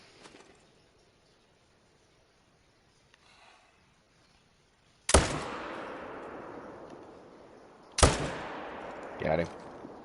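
Two loud rifle gunshots fired while hunting a black bear in theHunter: Call of the Wild, at Silver Ridge Peaks with feeders, each a sharp crack with a long fading tail, a few seconds apart over quiet outdoor ambience.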